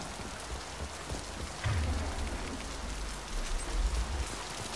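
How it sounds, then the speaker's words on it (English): Steady rain falls in the Mass Effect 2 Legendary Edition game world, a constant broadband hiss of drops with a low rumble swelling midway, continuous throughout with no talk. "it's raining."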